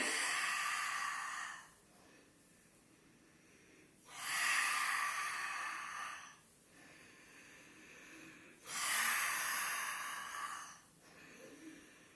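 Deep breathing during a Pilates abdominal exercise, with three long airy exhalations, each lasting about two seconds and separated by quieter pauses. The breaths are close and loud, and there is no speech.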